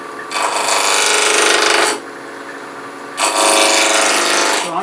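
Wood spins on a lathe as a hand tool cuts two pieces down to round 2-inch cylinders, giving two loud, sustained scraping cuts of a couple of seconds each separated by a quieter whirring pause.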